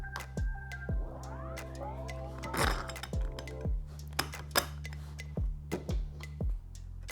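Metal screw, washer and small hardware clinking and tapping repeatedly while being fitted through the backrest of a Saddlemen Dominator seat for a 2021 Harley-Davidson Road Glide CVO, close and fairly quiet with brief ringing clinks.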